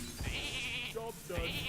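Sheep bleats from a polymorph spell in Hearthstone, a wavering nasal baa heard twice in quick succession over a steady game backdrop with a faint murmur underneath.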